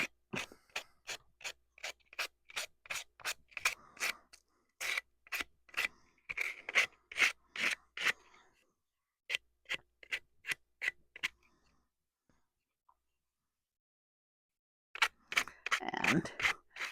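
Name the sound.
sandpaper sanding edges of decoupaged wood cutout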